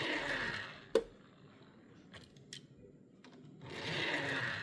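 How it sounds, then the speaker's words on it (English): Small die-cast Land Rover Defender 90 toy car with wobbly wheels rolls across a surface, giving a faint buzzing rattle at the start and end with a sharp click and a few light taps in between. "Even though it creates a lot of noise, it does roll really well."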